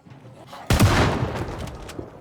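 A sharp, loud rifle shot in the zombie survival video game Project Zomboid cracks out suddenly from near silence, then a short decaying tail follows with faint further clicks.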